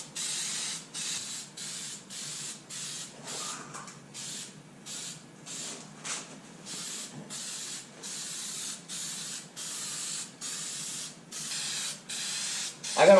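A spray gun lays a base coat of textured bedliner onto the bed of a Ford F350, sounding as a loud hissing spray in repeated bursts of roughly a second each, separated by brief pauses.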